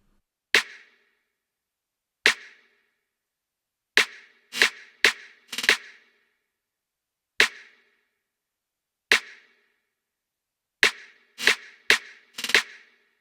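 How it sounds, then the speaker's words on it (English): A layered trap-style snare drum sample played on its own: sharp, bright crisp hits with short decays, repeating in a sparse pattern of singles and quick clusters over silence. "Moving on to the snare, which sounds like this,"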